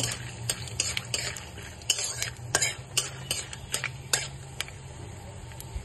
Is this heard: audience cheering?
no